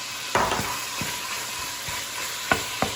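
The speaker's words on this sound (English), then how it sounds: "what I have here is the 3 slices of bacon that I cut up. We're gonna brown these" Three slices of chopped bacon browning in a pan, a steady close sizzle of frying with a few sharp scrapes and knocks as a utensil stirs and breaks up the pieces.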